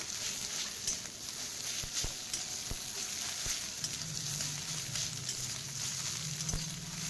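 Egg bhujia made from two eggs frying in a pan until reddish brown: continuous soft sizzle and crackle, punctuated by a few sharp spatula taps against the pan, with no voices.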